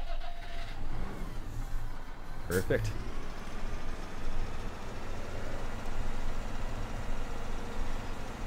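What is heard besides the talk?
tractor engine in Farming Simulator 17 video game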